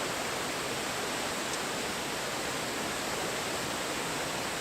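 A waterfall near a cliff-edge winter campsite gives a steady, dense rush of falling water that fills the whole stretch with no breaks.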